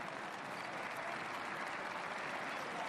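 A basketball crowd at a EuroLeague third-place game applauds an injured player with steady, sustained clapping from a large arena audience, without a break.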